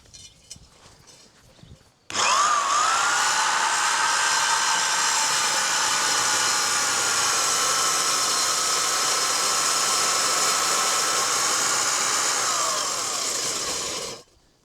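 A Vevor core drill for concrete and brick starts up and runs loud and steady for about twelve seconds with a high, whining motor pitch, then winds down and stops.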